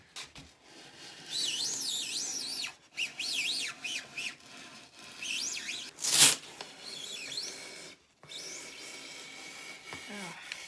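A drywall axe cuts through Styrofoam foam insulation with squeaky, scraping rasps in repeated strokes, the foam giving shrill squeals and one sharp crack as a piece breaks, close and fairly loud.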